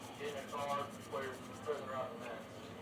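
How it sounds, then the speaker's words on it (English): Soft rubbing and mashing of food between bare hands in a home kitchen, a few gentle scuffing bursts repeating at close range, quiet and unhurried. "I'm going to kind of mash that up in my hands."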